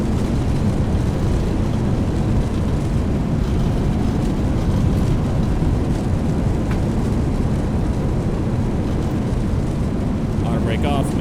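Airbus A319 thrust reversers roaring after touchdown on landing at Philadelphia in X-Plane 11, a loud, dense, steady rumble that holds at full strength throughout.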